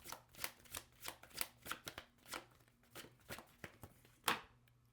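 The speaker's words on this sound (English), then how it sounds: "Let me shuffle one more time, see if we get one more card to complete the spread." Tarot cards are shuffled in a quick series of crisp riffling bursts and taps, fairly close, with no talking.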